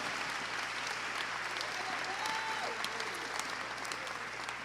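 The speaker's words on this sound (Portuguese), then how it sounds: "você consegue aplaudir ao Senhor pela palavra esta noite?" A church congregation applauds together, a steady wash of many hands clapping at an even level with a low hum underneath and a faint voice briefly rising.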